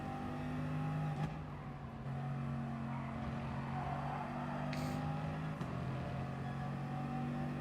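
Racing car engines drone steadily in the Gran Turismo video game, faint and continuous with sustained tonal hums and a few short sharp bursts along the way.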